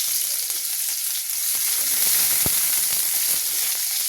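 Chopped onion frying in hot oil with five-spice seeds gives a loud, continuous bright sizzle up close, with a few faint clicks of a spoon against the pan and no talking.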